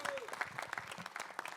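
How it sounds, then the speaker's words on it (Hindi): Audience clapping at a book-of-records event in India, a brief, faint, scattered round of applause with some crowd noise. "एक बार जोरदार तालियां इनके लिए।"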